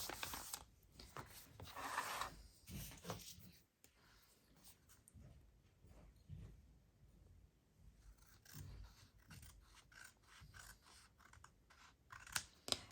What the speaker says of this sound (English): And I'll trim off the uneven bit.